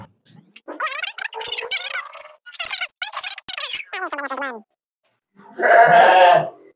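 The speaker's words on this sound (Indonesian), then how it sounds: "Ya, ini katanya Mas Ribut mau mengeluarkan dombanya dulu." A contest sheep (domba) lets out one loud, close bleat after a stretch of people talking nearby.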